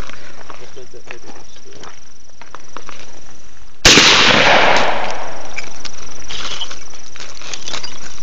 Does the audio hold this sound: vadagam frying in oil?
no